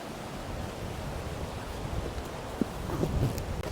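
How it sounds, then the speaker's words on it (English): Strong, suddenly rising wind on a walk near Malham Cove in the Yorkshire Dales roars and buffets the microphone, mixed with a surf-like rush and a few brief knocks near the end. "It's one of those sudden instant changes in the weather where it suddenly got up windy"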